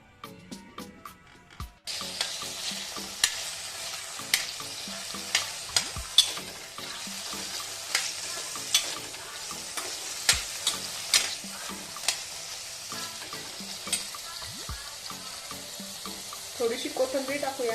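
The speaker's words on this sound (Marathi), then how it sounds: "थोडंसं तेल टाकून पनीर फ्राय करून घेऊया।" Paneer frying in a little oil for palak paneer, a steady hiss with regular spatula taps and scrapes at close range, preceded by a brief clatter.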